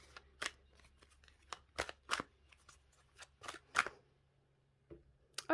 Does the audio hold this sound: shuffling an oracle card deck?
yes